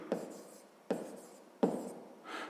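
A pen scratches out a maths equation on paper in three quick bursts, each starting with a tap and trailing off, close and quiet with no voices.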